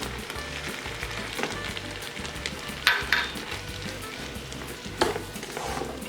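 Green onions sizzle and fry steadily in a pan for vegetarian French onion soup, with a constant crackling hiss and occasional sharper pops and utensil scrapes; no voices.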